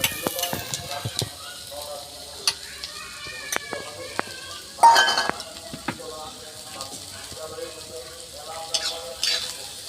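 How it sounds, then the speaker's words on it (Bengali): Thin carrot strips frying in a little oil in a pan while being stirred, a soft steady sizzle broken by repeated spoon and pan clinks, with a louder scrape midway and occasional faint voice. "গাজরগুলোকে একটু অল্পতে হালকা তেলে একটু ভেজে নেব"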